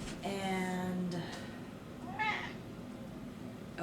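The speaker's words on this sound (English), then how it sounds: "Hello, cat." A cat meows twice, a drawn-out call near the start and a shorter one a little later, close and fairly clear over a quiet room.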